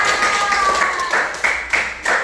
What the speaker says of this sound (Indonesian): Tepuk tangan buat Panda